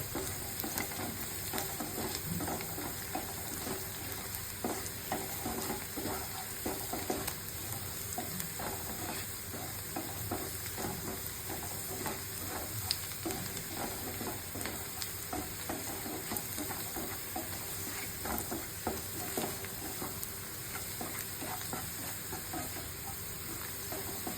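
Panch phoron spices, kalonji and fenugreek frying with reddened onions for country-chicken khichuri: a loud, continuous sizzle with constant crackling and stirring scrapes throughout, and no talking.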